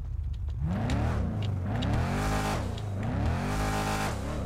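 A 1,000-horsepower Dodge Charger Redeye with a custom exhaust revs hard in a GTA 5 FiveM game, several rising and falling throttle sweeps with a raspy loud tone, no voices over it.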